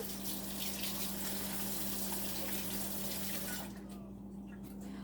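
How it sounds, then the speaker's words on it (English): Tap water runs steadily into a kitchen sink as a spoon is rinsed, a broad close rushing hiss that cuts off near the end, leaving a quieter hum behind. "And I'm going to rinse my spoon."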